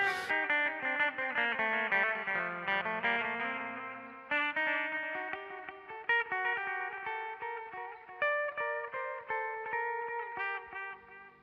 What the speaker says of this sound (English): you're really still just hearing the little arpeggiator going through the distortion